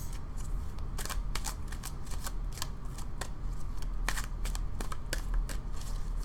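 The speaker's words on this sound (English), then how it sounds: "Spirit doesn't care how long it takes to shuffle." Tarot cards being shuffled by hand, a steady run of crisp papery riffles and bursts that continues throughout with no talking.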